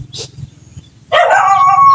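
A dog gives a short yelp followed by a longer whining bark, close and loud, over a low steady hum.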